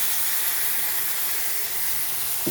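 Tomatoes hit a pan of frying spices for an egg curry, giving a steady broad sizzling hiss that runs evenly throughout, close up and without voices.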